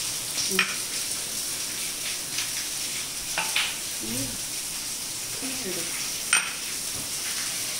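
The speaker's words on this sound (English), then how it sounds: "In a bowl, mix everything together." Sabudana vada mixture with cashews is stirred in a bowl, giving a continuous soft, wet mixing texture with a few light knocks and scrapes against the bowl, close and fairly quiet, no one talking.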